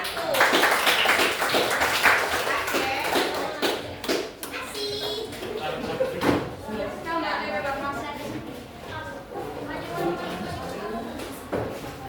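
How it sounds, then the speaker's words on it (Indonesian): Students in a classroom applaud group 1 with scattered, uneven claps and taps that blend with chatter and shuffling, a few sharp claps standing out before voices take over. "Berikan aplaus untuk kelompok 1."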